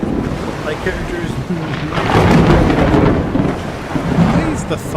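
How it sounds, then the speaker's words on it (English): Thunder in the Mount and Blade: Bannerlord video game during a naval boarding scene, loud continuous rumbling with rain and sea noise, swelling midway through. "Why is the thunder so loud?"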